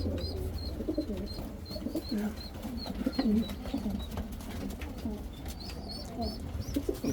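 Young pigeons in a loft coo in soft repeated low calls, joined by scattered chirps and the shuffling of birds nearby, held at a steady moderate level throughout.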